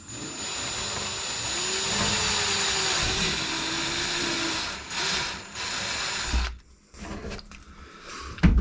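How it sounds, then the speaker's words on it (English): A power drill with a 5/32 bit bores into the plastic rim of a rain barrel, a steady whirring drone for several seconds that dips briefly, resumes, then stops. "So I'm going to drill my hole in the back of the rim here."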